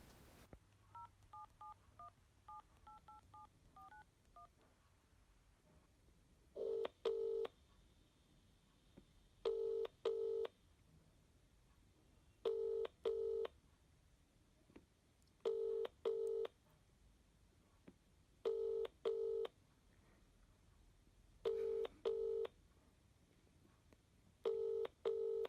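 Rapid bursts of touch-tone telephone dialing beeps, several short clusters of tones spaced a few seconds apart, clear and close against a quiet background with no talking.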